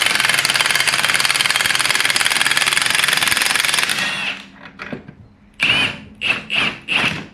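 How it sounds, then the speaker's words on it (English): A 1/2 inch impact wrench with a 22mm socket hammers loudly and continuously for about four seconds while releasing a strut spring compressor, then a few short sputtering bursts follow after a pause. "we're going to be using our 1/2" impact with our 22mm socket"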